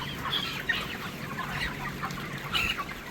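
Broiler chickens on a farm cluck and chatter softly in a dense, continuous flock murmur, several birds overlapping at moderate distance with no speech.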